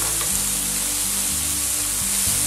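A tomato and fine-herb mixture sizzles in a pan of cooked mushrooms, a loud steady frying hiss with a low hum underneath, continuous and close, with no talking.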